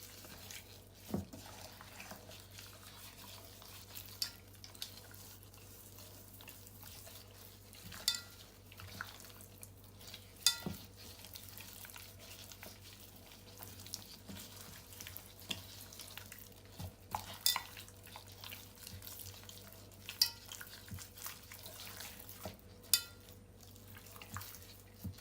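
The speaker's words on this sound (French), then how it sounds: "Et je mélange tout ونخلط الكل." Rice and chicken being stirred together in a bowl, a quiet, steady scraping and soft clinking of utensil against the bowl with occasional sharper taps, heard alone close by.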